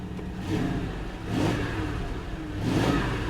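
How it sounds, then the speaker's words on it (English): Engine of a rebuilt 2005 Lincoln Town Car revs three times from idle, each burst of throttle rising and falling back in a smooth, mid-pitched swell, close and clear with no talking. "Give it a little gas here once it idles down a little bit."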